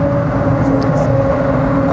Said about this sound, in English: But still, it's very noisy because of the other cars.